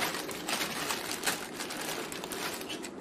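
A plastic bag crinkles close up while an Eachine EG16 Wing God quadcopter kit is unboxed, with continuous rustling and crackling throughout and small louder crinkles scattered across it.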